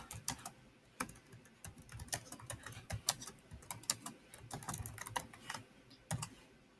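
Quick, irregular clicking of a computer keyboard as someone types by hand, close and fairly quiet, in bursts with short pauses and no voices.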